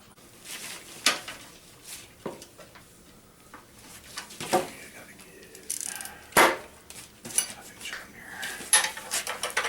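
A wrench ratchets while snugging a bolt on a minibike motor mount, producing scattered short clicks and metallic clacks at close range, with quiet talk in between.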